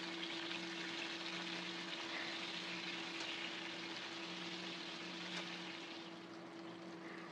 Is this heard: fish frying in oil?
yes